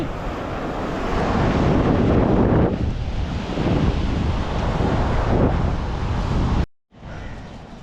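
Strong wind buffets the microphone while waves wash in at a clean beach, a loud continuous roar with surging swells. It cuts out briefly near the end, then resumes more quietly.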